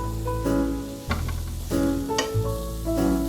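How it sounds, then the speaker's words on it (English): Onions fry in hot oil, with a close sizzle broken by clattering stirs and brief scraping bursts in a short stretch. "First thing, I'm going to heat up my oil, and once it's hot enough, I'm going to add my onions."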